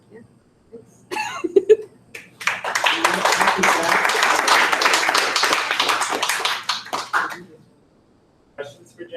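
A small audience claps after a talk at a Drupal Backdrop summit, starting with a few scattered claps and swelling into several seconds of steady, fairly close applause that tapers off, with a brief voice at the start and end.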